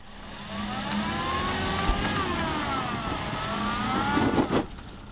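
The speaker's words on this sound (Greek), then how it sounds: "Δώσου λίγο γκάζι." Toyota Hilux pickup fitted with snow chains, its engine revving steadily on a snowy climb, with a sustained mid-pitched drone that rises and falls and swells louder near the end.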